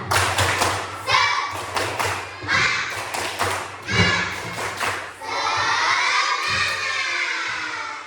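Schoolchildren in an Indonesian classroom perform the tepuk semangat spirit clap, sharp rhythmic claps and thumps in quick bursts mixed with loud group shouting and cheering, ending in a sustained chorus of voices.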